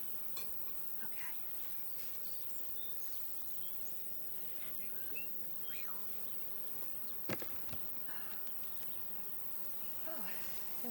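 Honey bees in an open hive during a beekeeping inspection, giving a faint, steady buzzing drone throughout, with one sharp knock partway through.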